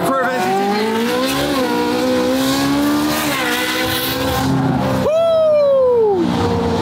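A Ferrari 458 GT3 widebody race car engine revs loudly, its rising and falling tones sweeping up and down, then a sharp final blip that winds down, heard close and dominating the scene.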